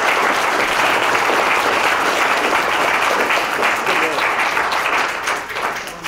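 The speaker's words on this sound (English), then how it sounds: "This would be a really good time for you to applaud for these three candidates." Audience applause for three candidates at the Cedar Rapids at-large city council candidate forum: sustained, loud clapping from a room full of people, tapering off toward the end.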